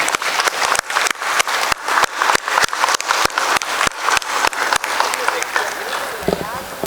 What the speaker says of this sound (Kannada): A big round of standing ಅವೇಷನ್ to entire committee